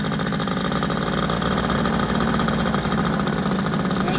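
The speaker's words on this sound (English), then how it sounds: "The tune muffler has a good sound to it" A paramotor engine idles through a tuned muffler exhaust, giving a steady, loud, close mechanical drone with a fine rapid pulse and no talk over it.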